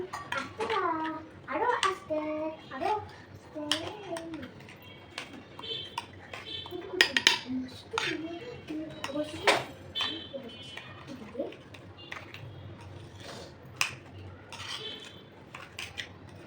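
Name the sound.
mixing semolina in a bowl with a spoon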